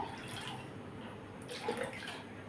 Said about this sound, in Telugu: కడిగిన కందిపప్పులో తగినన్ని నీళ్ళు అనేవి వేసుకోవాలి మనము